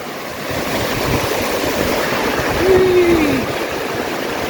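Steady broadband rush of the River Fillan flowing in the Scottish Highlands fills the scene, with a brief voice-like tone rising over it midway.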